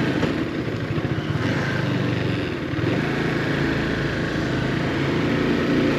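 Motorcycle engines drone steadily as bikes pass on a Swiss mountain pass near the Schwägalp summit, a continuous mid-pitched hum with no talking.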